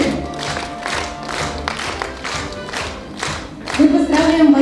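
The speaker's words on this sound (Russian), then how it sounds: "Ваши аплодисменты." A crowd claps steadily in rhythmic bursts at an awards ceremony, with a few cheers rising near the end, filling a large room.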